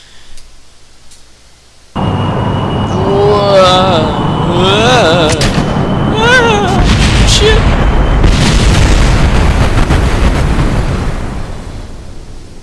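In Kerbal Space Program, a rocket launches or explodes with a sudden loud boom, followed by a sustained heavy roar that fades out slowly. Someone talks over it.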